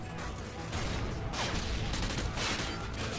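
Dense bursts of rapid gunfire from the Call of Duty Modern Warfare 2 Spec Ops video game, a loud and continuous fusillade that fills the whole stretch.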